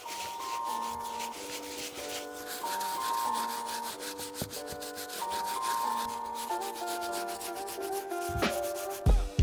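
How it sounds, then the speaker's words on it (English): A soft bristle brush scrubs the grimy uppers of an Air Jordan 6 Iridescent sneaker in a continuous rapid rubbing rasp, close and fairly steady, with faint music underneath and no talk. "First brush we're going to be using is a soft bristle brush to break down the grime and dirt on the uppers and insides as well as the tongues."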